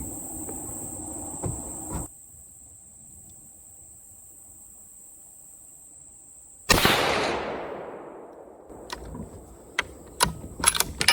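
A Savage 110 bolt-action rifle clicks sharply a couple of times while crickets chirp steadily outdoors, then one loud shot booms and rings out. A quick run of metallic clacks follows as the action cycles and ejects the shell.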